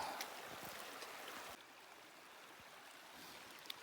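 Mountain creek (Cliff Creek) in the Rockies near the Sheep River trail, flowing in a steady low wash of water that drops slightly quieter partway through, faint and continuous with no voices.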